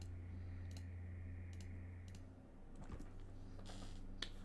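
Quiet mouse clicks while playing through a card game combo in a Rotpriest Storm deck, scattered single and double clicks over a faint steady electronic hum, close but soft.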